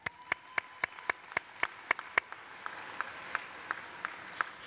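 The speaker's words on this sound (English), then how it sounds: "Let's give them a round of applause" Scattered applause rises from the audience at a high school commencement ceremony. Sparse, distinct claps sound at a distance over a quiet room, with a few hands beating in a loose, slowing rhythm.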